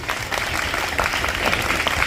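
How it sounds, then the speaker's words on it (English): Teachers and parents at a school event in Tandur applaud seated schoolchildren, producing a dense, even wash of clapping from a sizable crowd that holds steady for two seconds. "I think teachers and parents should clap for these children who are seated here"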